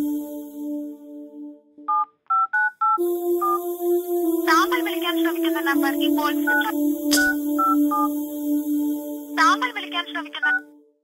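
A phone number is dialed on a mobile phone: a quick run of distinct keypad beeps, followed by sustained electronic tones and people talking nearby.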